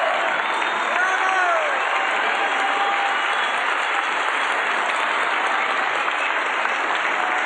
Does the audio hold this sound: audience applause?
yes